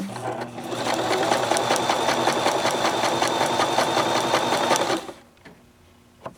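A Bernette b33 sewing machine runs a blind hem stitch in a steady, fast, close mechanical whirr with rapid needle clatter, continuous for about five seconds before stopping abruptly, followed by near silence and a faint click.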